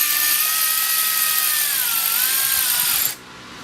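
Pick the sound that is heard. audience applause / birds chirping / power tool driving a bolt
power tool driving a bolt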